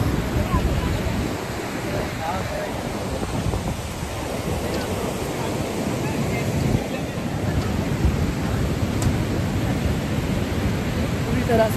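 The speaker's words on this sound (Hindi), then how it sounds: "अम्ब्रेला हमने लाया बट फिर भी इतनी तेज हवा है कि हम अम्ब्रेला भी नहीं संभाल पा रहे।" Strong wind gusts roar at Lingmala waterfall in Mahabaleshwar, a loud continuous rushing blast mixed with the waterfall's wash, steady throughout with no pause.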